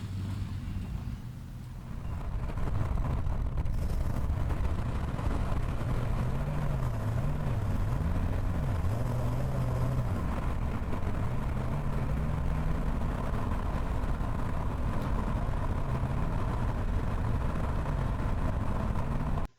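A 1959 Ford F100 pickup truck cruises along an open road, its engine a steady low drone with slight wavering pitch heard from inside the cab, constant throughout.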